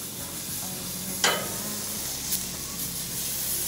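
Steaks seasoned with garlic and chili powder sizzle on a barbecue grill, a steady frying hiss with a brief scrape or flip sound partway through.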